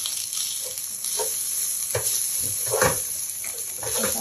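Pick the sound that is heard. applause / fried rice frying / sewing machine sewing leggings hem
fried rice frying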